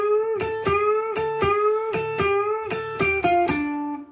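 An electric guitar plays a short repeating riff from a song, a held note bent up and struck again, with quick picked notes between, clear and close.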